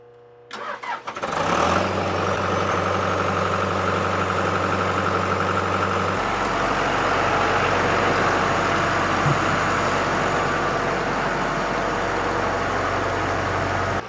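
A natural-gas-fuelled motor cranks and fires after a brief quiet, then settles into a loud, steady, close idle that shifts to a deeper drone partway through, with no talk.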